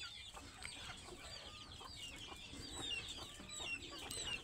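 Desi chickens kept in a cage cluck repeatedly at a moderate distance, short overlapping calls continuing throughout over a quiet background.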